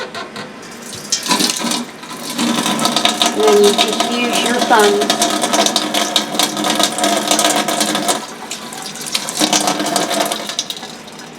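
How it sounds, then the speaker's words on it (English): A kitchen tap runs for several seconds in a home kitchen while beets are peeled, a steady splashing hiss that starts, pauses briefly and resumes, heard under a voice explaining. "I'm going to turn the water on just a little bit, so there's going to be a little noisy here for just a second."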